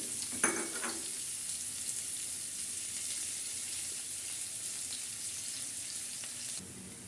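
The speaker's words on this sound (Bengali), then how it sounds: "এখন আমি এক কাপ পেঁয়াজ দিয়ে দেব তেলের পরে" Onions frying in hot oil in a pan that just fried a whole hilsa fish, a steady close sizzle with a brief crackle burst as they go in, alone without talk.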